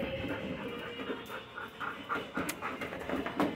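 A male rescue dog pants close by, a quick rhythmic series of breathy huffs with a few louder bursts over several seconds, with no voices.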